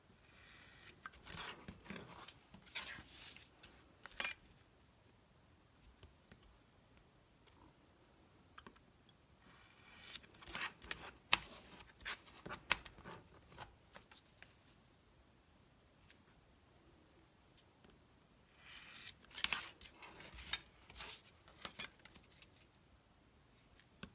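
Scissors slicing through book cloth while covering boards for bookbinding, a series of crisp snipping and rustling bursts in clusters with quiet gaps between, close and fairly soft, no talking.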